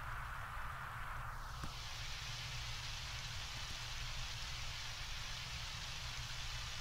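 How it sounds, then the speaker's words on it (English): Steady, soft hiss of rain falling continuously in the video game Undertale, even and unbroken throughout, with no voices. "Oh, it's raining."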